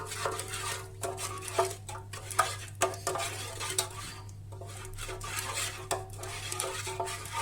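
Whole wheat bread ingredients with an egg are stirred in a bread machine pan, giving repeated clinks and scrapes of a utensil against the container over a steady low hum, with no talking.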